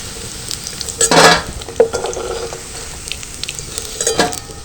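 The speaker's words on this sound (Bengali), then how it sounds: "দেখো পনিরটা একটু লাল লাল করে ভাজা হয়ে গেছে" Paneer pieces fry in hot oil in a pan, a close steady sizzle punctuated by a few loud metallic scrapes and clinks of a utensil turning them, with no voices.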